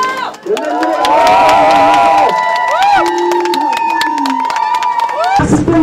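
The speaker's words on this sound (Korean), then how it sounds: "박수로 면담 들어가시는 대표님께 힘찬 환청과 박수 부탁드리겠습니다" A large crowd at a residents' rally for future apartment occupants in Dasan New Town cheers and claps in a sustained, loud roar. Whoops and tonal shouts carry over the clapping throughout.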